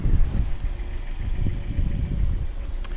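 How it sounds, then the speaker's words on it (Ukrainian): A 2009 Mazda CX-7 with a 2.5-litre petrol engine idles steadily, a continuous low rumble recorded close up and alone, with no voices over it. "Двигун працює рівно гарно, нічого не димить"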